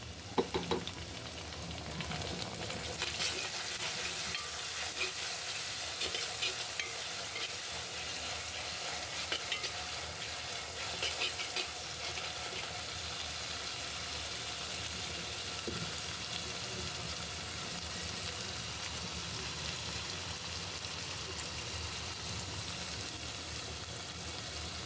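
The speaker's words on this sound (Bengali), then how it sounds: "পেঁয়াজটা লাল লাল হয়ে এসেছে, আমি এবার মশলা দিয়ে দেবো, আদা বাটা আর রসুন বাটা।" Onion browned with ginger and garlic paste masala frying in a pan, a dense continuous sizzle with occasional spatula scrapes throughout, close and steady, with no voices over it.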